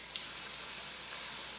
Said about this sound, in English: we're gonna get this browned and then show you what it's gonna look like. Listen to it sizzle.